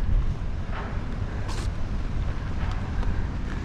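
A fishing boat's engine, on a vessel that no longer carries a sail, at Indonesia's oldest port. It gives a steady, close, low rumble without a break, and no one speaks.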